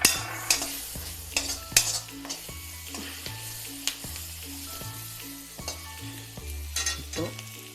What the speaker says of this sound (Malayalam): ഇതെല്ലാം കൂടെ നന്നായിട്ട് വഴറ്റിയെടുക്കണം.